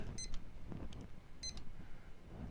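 A small timer beeps during a coffee cupping of Guatemalan beans, two short clusters of bright, faint electronic beeps a second or so apart over quiet room tone.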